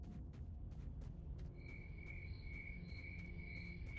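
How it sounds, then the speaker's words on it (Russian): Crickets chirp across a field in the S.T.A.L.K.E.R. video game, quiet and steady, with repeated short chirps and a sustained high trill joining partway through over a low ambient rumble. "Сверчки резко в поле появились"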